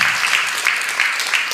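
An audience at an Islamic religious lecture claps, a dense burst of applause heard close and loud for a brief moment.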